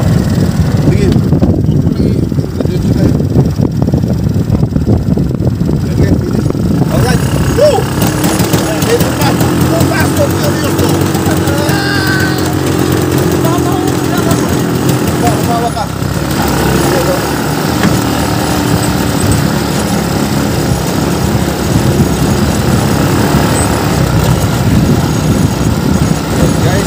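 A motorbike rides around in the desert, a loud engine drone blended with buffeting wind noise, with a voice talking over it for much of the time.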